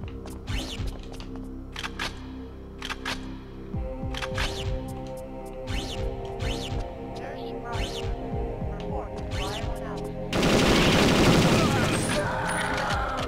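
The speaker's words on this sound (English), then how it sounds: "you think they would hear all the gunfire?" Rapid bursts of gunfire in Perfect Dark over a droning hum, ending in a loud blast of noise; a few voices speak in between.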